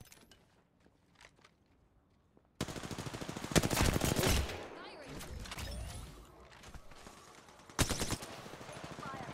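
Alternator submachine gun firing Disruptor rounds in the Apex Legends video game: rapid, loud bursts of close automatic gunfire with mechanical clatter, starting abruptly and coming in several volleys, mixed with other game sounds and a voice talking.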